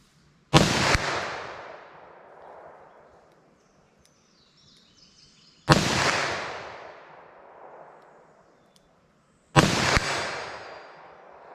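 Three single gunshots from a .327 Federal Magnum handgun, loud and close, spaced a few seconds apart, each cracking sharply and then ringing out in a long echoing decay.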